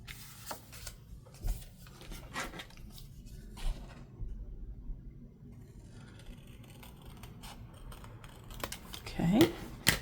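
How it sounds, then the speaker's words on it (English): Scissors snipping paper to make a pocket for a papercraft folio: faint, scattered cutting and rustling sounds, quiet and close, with a person talking throughout. "We could cut it right there in the center of it."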